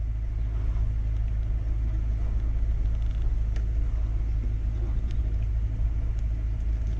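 A KTM 125 SX two-stroke dirt bike engine runs steadily nearby, a continuous low rumbling drone at even volume throughout, no voices.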